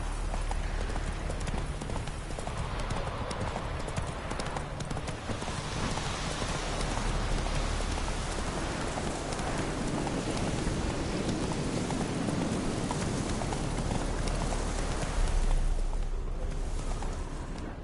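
A video game horse gallops steadily, hooves drumming in a continuous rhythm under a constant wash of rain that runs the whole time without a break.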